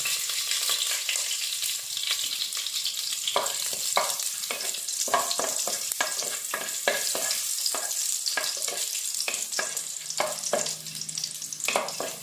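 Cinnamon, cardamom pods and cloves sizzle in hot ghee, a continuous close frying hiss broken by repeated sharp crackles and pops.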